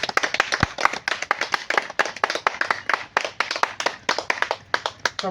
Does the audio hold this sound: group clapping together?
yes